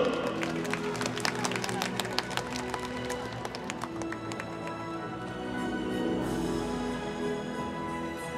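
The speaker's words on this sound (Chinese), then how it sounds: "也让我们再次用热烈的掌声向获奖运动员表示祝贺" Audience applause fills a gymnastics awards ceremony at the 2017 Chinese National Championships in Wuhan, a steady wash of clapping from a large indoor crowd with sharp individual claps standing out, swelling slightly toward the end.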